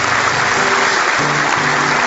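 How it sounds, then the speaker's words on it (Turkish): A comedy show's studio audience breaks into applause, a loud, dense, continuous roar of clapping that fills the whole moment, with a low tonal hum running beneath it. "Alkışlayın."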